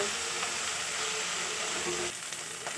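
Fish head curry sautés in a pan with a steady, dense sizzle and hiss close by, easing slightly toward the end, with no talking.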